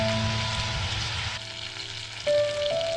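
Diced onion and tomato sizzle steadily in a hot pot, a continuous crackling hiss, with some faint tonal ringing in the background.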